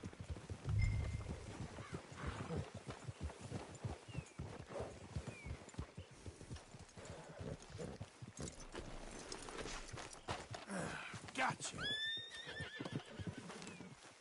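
A Red Dead Redemption 2 horse whinnies loudly near the end, preceded by steady clip-clopping hooves and rustling movement throughout.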